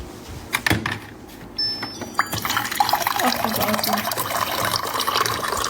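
Water pours from a tap into a container or sink, a steady rushing flow that starts after some brief knocks and clatter and continues close by, with a few faint voices in the background.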